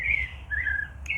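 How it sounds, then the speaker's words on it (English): A bird chirps outdoors in a bright, sustained whistled call that slides up and down, close and clear above a low background rumble, with no talking. "That bird is so gorgeous."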